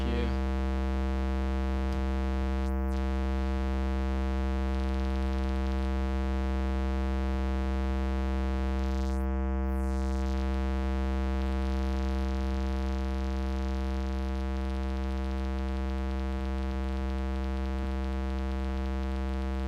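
A steady electronic synthesizer drone holds several sustained pitches, with two brief rising chirp sweeps cutting through; no one speaks.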